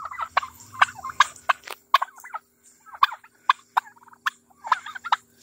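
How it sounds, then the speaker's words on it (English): A Blue Slate turkey gobbler gobbles repeatedly in rapid, rattling bursts, close and loud, with short pauses between calls and a faint hum underneath. "My blue slate gobbler."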